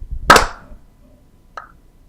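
Hand claps for syncing a podcast recording: one sharp, loud, close clap, then a much fainter second clap about a second later, with near silence around them.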